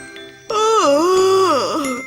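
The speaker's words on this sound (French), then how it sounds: "Quelqu'un ronfle. Oh! C'est l'ours qui dort." A sleeping cartoon bear gives one long, exaggerated snore, a loud wavering moan that swoops down and up. Faint tinkling sounds play in the background.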